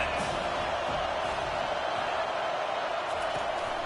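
Crowd noise at a college football stadium for a Notre Dame versus UNC game: a steady, dense roar of many voices that holds at a constant level throughout.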